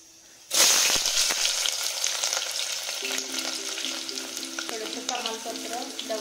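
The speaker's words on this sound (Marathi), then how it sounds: "कांदा टाकून घेऊया" Chopped onion hits hot oil in a cooking pot, setting off a loud, steady sizzle that holds throughout, with a few clinks of a utensil stirring near the end.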